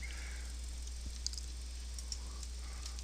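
A few soft, brief computer mouse clicks over a low steady hum in a quiet room, each tick sharp and isolated.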